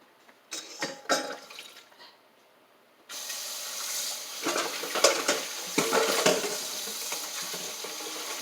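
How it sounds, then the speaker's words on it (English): A metal dough hook clanks into a kitchen sink, followed by a steady rush of running tap water filling it to soak, with occasional knocks and splashes under the flow. "I'll take the dough hook out and put that in the sink to soak"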